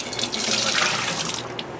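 Water pours and splashes steadily as it is dumped out of a water distiller unit, a close, continuous gush lasting under two seconds with no voices.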